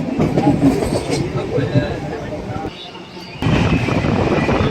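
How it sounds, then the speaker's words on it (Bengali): A train runs on the main line near Shaktigarh station, where it meets the chord line. The wheels give a loud, steady rumble and clatter heard from on board, briefly dipping before surging back, with a voice talking over it. "শিয়ালদা নিউ দিল্লি রাজধানী এক্সপ্রেস কডে যাচ্ছে ওটা হচ্ছে কড লাইন আর আমরা মেন লাইন দিয়ে এলাম"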